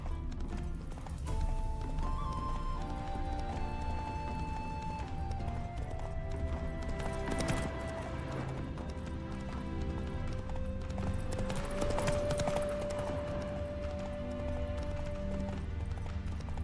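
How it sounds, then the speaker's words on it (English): Horse hooves clip-clopping at a trot in The Witcher 3 Next Gen Update, steady rhythmic hoofbeats with occasional neighs, set against sustained background game music. "Calm down, Roach. Just bees."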